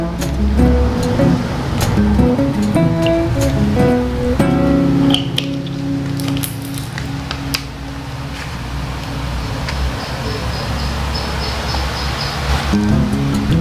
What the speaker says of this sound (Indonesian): Le mineral, kita tuangkan airnya.